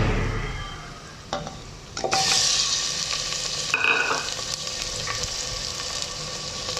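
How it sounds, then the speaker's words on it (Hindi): Mutton pieces tipped into a pan of golden fried onions, a sudden loud burst of sizzling that settles into a steady hiss and crackle, with a few clinks of stirring and no voices. "अब हम इसमें मटन डाल देंगे।"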